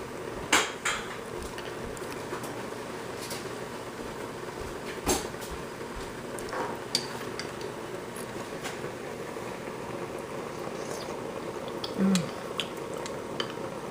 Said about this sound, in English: I'm gonna go grab another spoon, so I'm not gonna contaminate even my own.